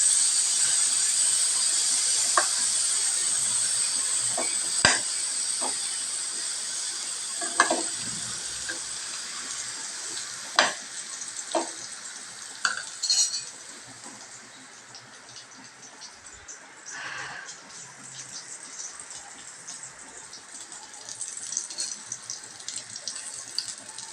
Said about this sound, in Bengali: পটলগুলো আমার প্রায় ভাজা হয়ে এসছে, একটু উল্টে দেবো